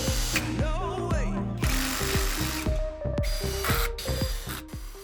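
A power drill drives wood screws into an aluminum extrusion workbench: about a dozen short ratcheting whirs and bursts of motor whine come close together, loud and near, with no talk.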